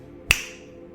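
A single crisp finger snap rings out sharply and close in an otherwise quiet room, fading quickly.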